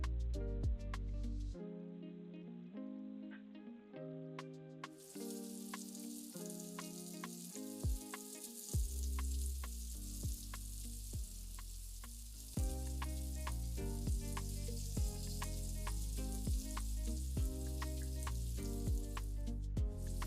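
Vegetables sizzle steadily in a hot pan with garam masala, turmeric and salt for a chapati stir-fry, with repeated scraping and stirring clatters throughout, no talk.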